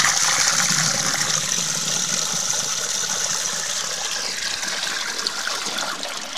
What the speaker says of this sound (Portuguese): Essa água aí vai toda embora.